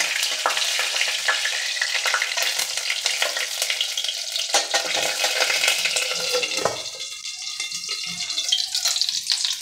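Ghee and garam masala fry hot in a pan while cooking thor, giving a continuous loud crackling sizzle with sharp spattering pops throughout.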